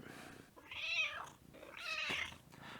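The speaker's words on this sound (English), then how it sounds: "I know you can hear my cat." A cat meows twice, fairly quiet, two drawn-out rising-and-falling cries about a second apart against a soft background.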